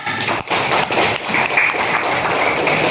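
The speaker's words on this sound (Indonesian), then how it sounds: "Oke, tepuk tangan buat Riza." Classmates clapping for a student named Riza in a classroom, a dense, fairly loud spatter of claps lasting the whole moment, with a few brief voices mixed in.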